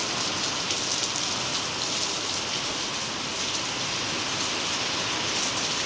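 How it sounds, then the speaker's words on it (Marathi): Steady monsoon rain with large drops falls on a farm, a thick, unbroken patter and hiss hitting nearby surfaces at a constant level from start to finish, with no talking. "मोठं मोठं टिपका येतं."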